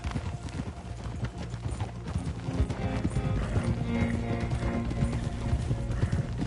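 Thoroughbred horses at a manor stable in Red Dead Redemption 2, with hooves clip-clopping steadily up close and an occasional whinny amid a low rumbling game soundscape.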